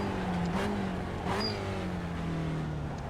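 A Spec Racer Ford engine drones in iRacing at Spa-Francorchamps, a steady close motor note whose pitch rises and falls gently as the throttle is eased on, with no voices.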